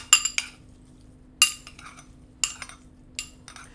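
A utensil clinks against a bowl while tomato and basil are tossed with salt and olive oil for bruschetta, in four short bursts of bright clattering scrapes separated by quiet pauses, close and with no voice.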